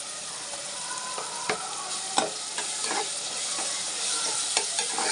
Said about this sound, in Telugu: ఇప్పుడు ఇందులోనే అల్లం వెల్లుల్లిపాయ పేస్ట్ వేసుకుందామండి